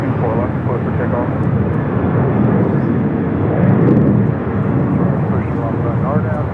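An airliner roars steadily down runway 24 left at LAX on its takeoff roll, a loud and continuous engine rumble with a slight swell midway. Air traffic control radio talk runs over the engine noise throughout.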